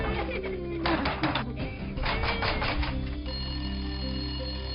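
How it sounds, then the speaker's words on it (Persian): A telephone bell rings in a domestic scene from a Tajik TV drama, sounding in a few short repeated bursts over a steady bed of background music. "با تلفن جواب ده دخترم."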